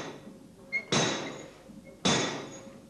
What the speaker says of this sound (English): And what it's supposed to do is to bring heavy blow on the workpiece